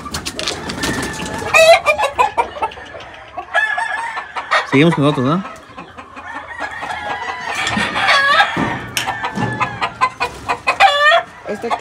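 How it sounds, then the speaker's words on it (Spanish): Four Caguan hens cluck in rapid bursts while a copetón rooster crows loudly several times, close and clear among the flock; someone speaks briefly. "Esas son 4 gallinas caguan. 4 gallinas caguan. Con un gallo copetón."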